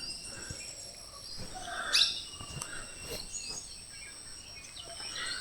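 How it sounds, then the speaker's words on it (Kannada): Wild birds call from woodland near the Kabini river bank in Wayanad, with scattered chirps and brief whistles, one sharper call standing out, over a faint steady insect drone. "ಸೌಂಡ್ ಅಂತೂ ಮಸ್ತ್ ಬರಾಕತ್ತವು. ಭಾಳ ಟೈಪ್ ಆಫ್ ಬರ್ಡ್ಸ್ ಅದಾವ ಇಲ್ಲಿ."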